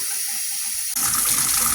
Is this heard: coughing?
no